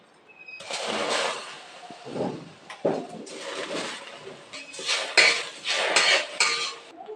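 Bhog rice frying in a pan, heard as close clinking and scraping of a utensil against cookware in irregular bursts, with no talking.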